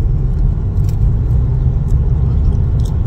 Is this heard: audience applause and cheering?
no